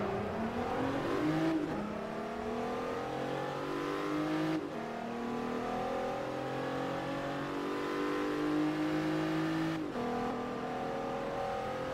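An Audi race car in the Forza Motorsport 3 racing game accelerates hard through several gears, each climbing engine whine broken by a short shift dip, loud and continuous with no talk.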